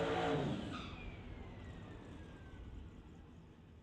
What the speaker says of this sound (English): Chris Gould rolling into the water box in the Mustang over there in the far side of the racetrack